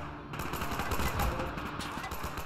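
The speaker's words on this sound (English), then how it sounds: "they're shooting from behind me as well." Dense, continuous gunfire from an infantry battle in the PC strategy game Men of War 2, with rapid overlapping shots and bursts that sound like machine guns close by and all around.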